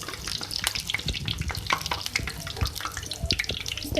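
Garlic potato pakoras frying in hot oil, a dense, loud crackling sizzle with rapid pops and spatters throughout.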